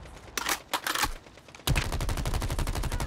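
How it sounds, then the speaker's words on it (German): Gunfire shot through a wall in Call of Duty Mobile: a few separate loud bursts, then a rapid, steady automatic stream of shots close by, with no talking. "Also man kann hier durch die Wand schießen."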